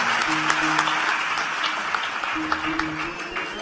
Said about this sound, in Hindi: अरे ताली बजाना तो ठीक से बजाइए भैया, आपको क्या दिक्कत है?